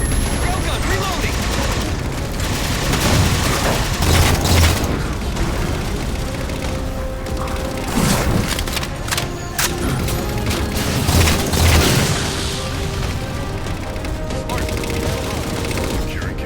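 Railgun fire and heavy combat blasts in Halo 4, aimed at Phantom dropships, with repeated loud booms and bursts of gunfire over a dense battle din, and voices speaking throughout.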